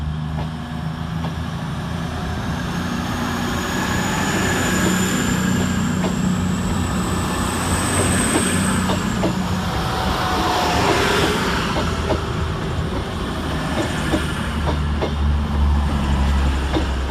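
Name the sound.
steam locomotives 45596 Bahamas and 45690 Leander at Chester station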